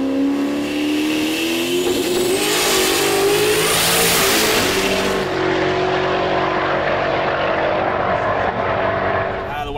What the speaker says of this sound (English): It's got a 3-speed in it, which is why we heard it shift again.